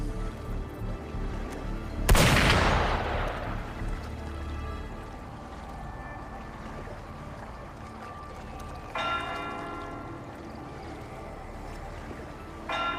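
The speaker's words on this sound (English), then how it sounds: "Gunfire! We've got intruders." A single loud, sharp video game gunshot blast with a long decaying rumble, followed by quieter metallic ringing tones and a low ambient hum.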